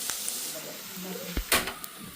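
Onions frying in oil in a pan, with a soft steady sizzle and a few quick scraping stirs near the end, heard close and fairly quiet.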